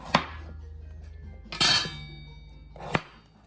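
Vegetables being chopped for cauliflower potato soup, three separate sharp knife strikes on a cutting board spaced well apart, close and distinct with brief ringing tails.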